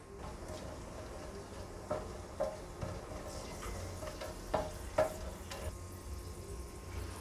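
Whole cinnamon, clove and cardamom join fennel seeds in hot oil for a Kerala kadala curry, giving a quiet, steady sizzle broken by scattered light ticks and clinks from stirring.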